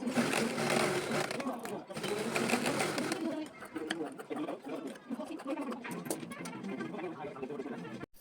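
Sewing machine runs steadily while lace is stitched onto a young girl's blouse, a continuous close mechanical whir that breaks briefly and then returns slightly softer, with someone talking over it.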